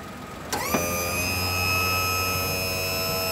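A mini truck's electric hydraulic pump starts up with a click to raise the dump bed, then holds a loud steady whine and hum that sustains to the end.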